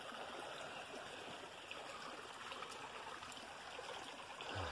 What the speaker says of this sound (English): We'll just wash it off and see what it is.